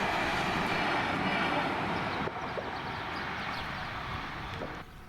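A pair of GB Railfreight Class 66 diesel freight locomotives, one leading and one at the rear, rumbles past at Fenwick level crossing, a broad, moderately loud roar that steps down midway and fades toward the end.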